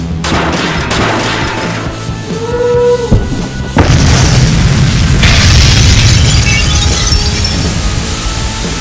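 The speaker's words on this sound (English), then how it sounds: "Not only does that make the camera fall onto the high bank wall, but it causes a landslide." A toy camera tower crashes onto the high-banked wall of a Hot Wheels diecast race track, setting off a landslide: loud, close booming impacts and clattering bursts, with a heavy crash partway through followed by sustained rumbling debris.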